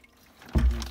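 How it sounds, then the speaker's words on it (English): Water pours into a rainwater storage bench liner after a quiet start, a burst of low, full-bodied gushing and splashing that carries on steadily at close range, with no voices. "you'd be able to hear the water"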